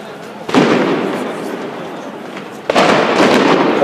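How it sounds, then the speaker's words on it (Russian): Stun grenades burst during street clashes at the Euromaidan protest in Kyiv, two loud sharp blasts about two seconds apart, each trailing off in a long noisy rumble. "Вот началось с этой стороны светошумовые гранаты."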